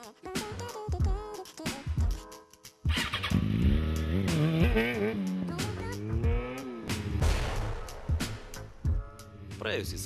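A stunt-riding motorcycle engine revs and surges in rising and falling bursts, loud and close, with a brief pause before the throttle climbs again, while people talk over it.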